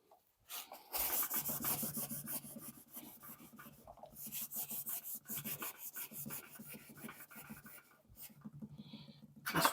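Cloth rubbing and wiping over electric guitar parts during a setup, a steady scrubbing rasp that runs close and continuous for nearly the whole stretch with brief pauses.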